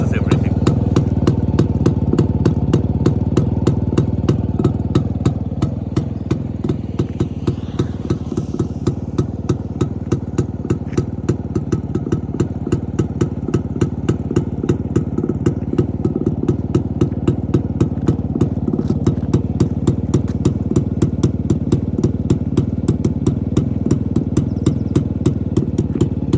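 A restored 1989 Yezdi D250 classic 250cc motorcycle idling close by, a loud, steady, rapid thumping beat with vibrating clatter running throughout.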